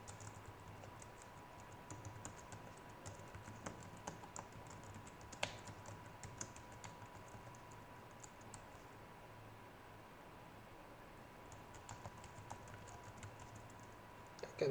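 Quiet, steady computer-keyboard typing while JavaScript code is entered, soft clicks pattering on evenly for the whole stretch over a faint background hum, with one slightly sharper key strike standing out.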